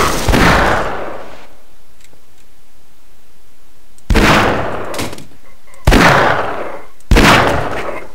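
Four sharp, loud video-game gunshots ring out, the first followed by a long stretch of near silence, the last three coming closer together, each with a fast decaying tail.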